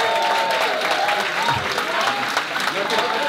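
Steady, dense audience applause fills the whole stretch, many hands clapping together at an awards-style presentation, loud and continuous with a faint crowd murmur.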